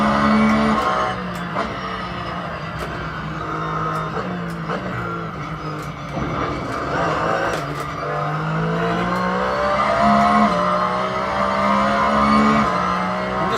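A Porsche racing around a bumpy track in Assetto Corsa, its engine droning and rising and falling through gear changes, with tyre squeal and scrubbing, heard close and steady with no talk.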